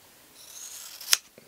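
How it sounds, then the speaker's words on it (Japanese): Scissors cut 3mm Wapsi foam at a fly-tying bench: a soft rustle of handling builds, then one crisp, close snip, followed by a faint small click, with no talking. "フォームをカットしていきましょう。"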